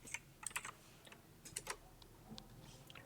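Quiet computer keyboard typing, with short bursts of crisp key clicks in uneven clusters, close by and without any talk.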